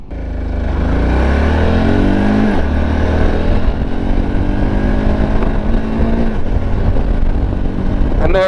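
A 2022 VOGE 650DSX motorcycle accelerates hard from a standstill, its 650 engine rising through the revs with audible gear changes, loud and close throughout with no talking.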